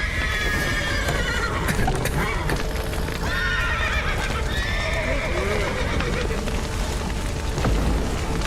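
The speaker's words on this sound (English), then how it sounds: "The horses!" Horses neighing and whinnying with clip-clopping hooves in the video game The Witcher 3, several loud whinnies over a steady din of hoofbeats and crackling noise, with voices talking throughout.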